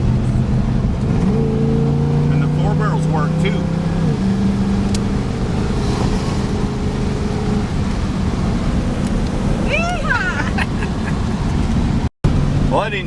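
Dually pickup truck engine running on a Quadrajet four-barrel carburetor, a loud steady droning engine with rising and falling revs outdoors, with people talking over it near the end.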